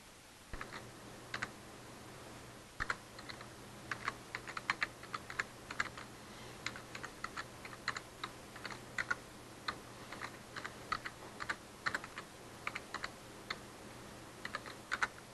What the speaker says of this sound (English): I don't want to spend too much time typing